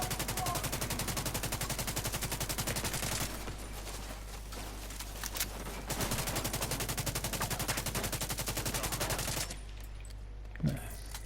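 Video game gunfire from weapon testing: rapid, sustained automatic bursts that pause briefly, then resume heavily and cut off, followed by a lone, sharp shot near the end.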